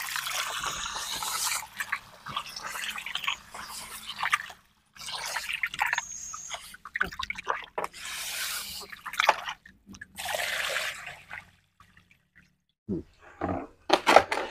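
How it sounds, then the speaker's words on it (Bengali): Sand being washed by hand in water for a homemade water filter, with wet squishing, sloshing and gritty crunching in uneven bursts separated by short pauses, close and fairly quiet. "তো বালি কিন্তু 3বার ধোয়া হয়ে গেছে বন্ধুরা, দেখছো তোমাদের সামনেই ধুচ্ছি"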